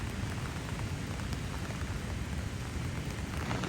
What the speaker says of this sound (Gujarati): ને વરસાદ શરૂ છે અત્યારે